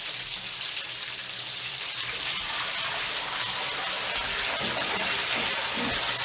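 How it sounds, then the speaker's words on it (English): Water falls in a steady, loud, continuous broadband rush that fills the whole clip on its own, with no talking over it. "the sound of beautiful water falling"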